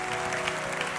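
A church congregation claps steadily throughout, a dense, even wash of applause from a crowd with no pauses.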